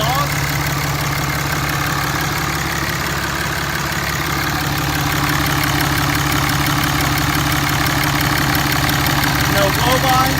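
A stock 2014 Ram 2500 Tradesman 4x4 pickup with a 6.7L Cummins turbo diesel, stock airbox and exhaust, idles steadily and close for the whole stretch, a constant low rumble with a faint clattery edge.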